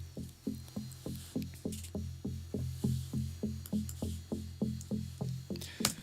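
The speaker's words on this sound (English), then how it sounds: "that synth sounds like this." A synth bass line pulses in a steady, rapid rhythm of short plucked notes with sharp attacks, evenly repeating throughout with no voices.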